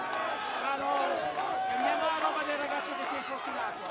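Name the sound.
crowd erupting at a medieval combat fight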